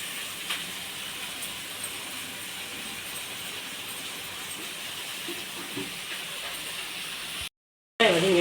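Three large onions sauté in a pan for prawn thokku, giving off a steady, even hiss of sizzling that runs unbroken and cuts out abruptly near the end, with no one speaking.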